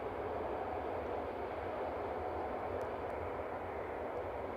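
Jet airliner taxiing at Manchester Airport, a steady broadband engine roar held at constant level without pause, moderately distant, with no voices.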